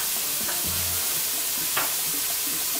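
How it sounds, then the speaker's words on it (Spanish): Onion sautéing in a pan of oil for yellow rice with chicken, a constant close hissing sizzle with a brief low clunk and a light scrape partway through. "para que pueda sofreír nuestra cebolla"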